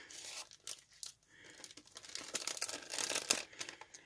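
Paper wrapping torn open on a piece of mail, a quiet run of ripping and crinkling close up with no talking.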